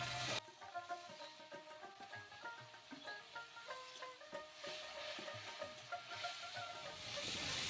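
Spices frying in a pan for a dried-fish (shutki) curry as water is poured in, a soft hissing sizzle with stirring scrapes and clinks, faint and close.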